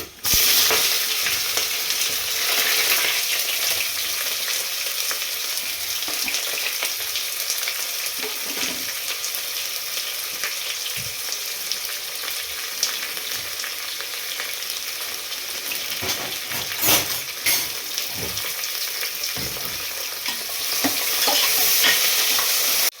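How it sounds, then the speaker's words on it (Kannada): Onions fried in oil with cinnamon, cardamom, cloves and other whole spices in a pan for cooker chicken biryani, a loud, steady sizzle broken by occasional spatula scrapes and stirring knocks, close up. "ಈರುಳ್ಳಿ ಗೋಲ್ಡ್ ಕಲರ್ ಬರಬೇಕು, ಅಲ್ಲಿವರೆಗೂ ಫ್ರೈ ಮಾಡ್ಕೊಳ್ಳೋಣ"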